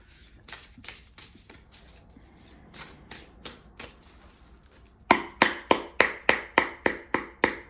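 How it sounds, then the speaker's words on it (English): Shaman Stream Oracle cards are shuffled by hand in a quiet room: a run of soft, quick riffling flicks, then a louder, steady burst of regular riffles toward the end, with no talking. "Pull a couple more cards from the Shaman Stream Oracle."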